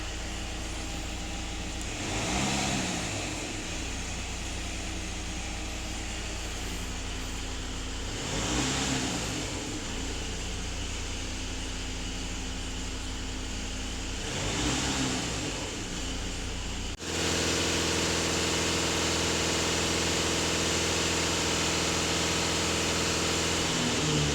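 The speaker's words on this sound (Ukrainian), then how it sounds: "Автомобіль сам газує." An Audi A4 2.0 TDI diesel engine surges on its own three times, about six seconds apart, each a swelling rev that drops back. It then settles into a steady, louder idle hum, with no talking.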